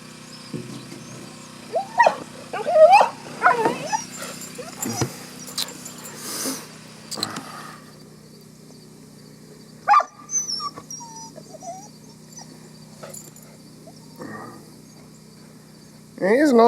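An older dog sniffs and whimpers, giving off scattered high whines and soft snuffles at close range. Quiet stretches fall between them, and a person speaks briefly.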